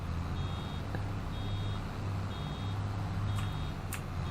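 Reversing beeps from a vehicle in Farming Simulator 22 sound as evenly spaced electronic tones over a steady engine rumble, repeating about four times.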